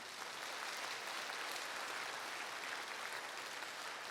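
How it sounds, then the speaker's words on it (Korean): Church congregation at a Baptist revival service applauding together, a steady wash of clapping from a large crowd, fairly faint and distant, sustained for a few seconds without talk. "우리 자축에 박수 한번 합시다."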